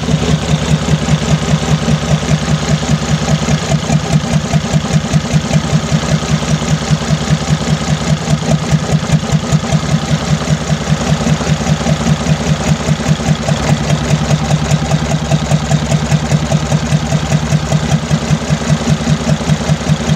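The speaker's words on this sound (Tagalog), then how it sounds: "So wala nang palya yung engine, steady na yung under niya." A 6M60 diesel engine idles steadily after injector replacement, a loud, even, rapid rhythmic clatter and drone close by that holds constant throughout without misfires or talk.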